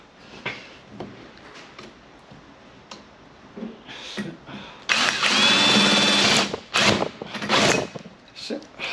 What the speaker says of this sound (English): That hold the bracket in place whilst I drill the second hole.